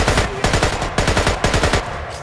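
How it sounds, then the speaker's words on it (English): Loud AK rifle burst fire from the video game Splinter Cell: Conviction rattles out in several rapid, evenly spaced bursts of sharp shots, close and alone without talk. "Am I using burst fire?"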